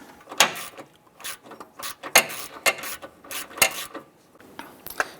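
A ratchet wrench backs out the upper tensioner bolt on a 2008-2013 Nissan Rogue, giving a string of close, rhythmic metallic clicks and rubbing turns with short pauses between them.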